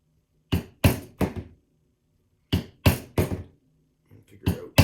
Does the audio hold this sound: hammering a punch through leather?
yes